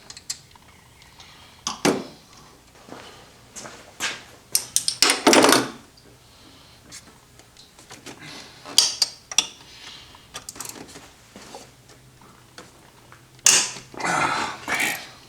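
A wrench works loose the belt tensioner on a 2001-2005 Honda Civic engine. Close metallic clicks, creaks and ratcheting come in irregular bursts, with quiet pauses between the tool strokes.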